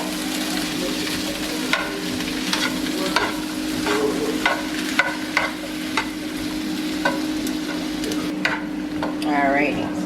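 Vegetables seasoned with an Italian herb and garlic blend fry in a pan with a continuous close sizzle, broken by repeated scraping stirs and knocks of a utensil.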